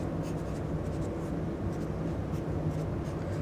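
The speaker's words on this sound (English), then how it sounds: "I'm just going to write from Krebs cycle" Pen writing by hand on a surface during a biology lesson on the Krebs cycle, a steady soft scratching that carries on for the whole stretch, close and fairly quiet with no talk over it.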